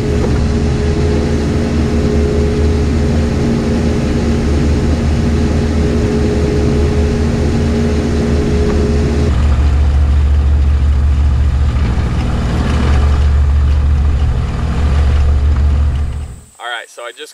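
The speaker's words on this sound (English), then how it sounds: "I'm gonna hop in the tractor. I'm gonna till it up real quick" A tractor engine runs steadily and loud while tilling a small food plot, a constant low drone with a shift in tone partway through before it cuts off near the end.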